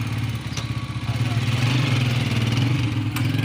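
A motorcycle engine runs nearby in a steady, low, throbbing idle with a rhythmic pulse that holds throughout, with faint scattered background clicks.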